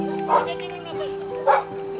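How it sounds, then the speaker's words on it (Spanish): A dog in a Slovenian village gives two short yapping barks about a second apart. It is fairly close, over a steady background hum, with a voice also present. "Mira, un perro esloveno de la raza eslovenia."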